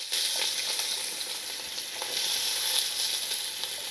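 Chopped onions and green chillies frying in hot oil give a steady, close, dense sizzle that crackles evenly throughout.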